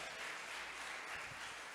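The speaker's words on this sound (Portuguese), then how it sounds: "Vamos aplaudir o Senhor" Faint, distant audience applause rises as an even wash of clapping from a congregation during a church sermon, with no speech over it.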